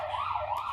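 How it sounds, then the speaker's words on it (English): An ambulance siren wails outside in a short snatch, its pitch sweeping up and down once over steady traffic rumble. "there's an ambulance"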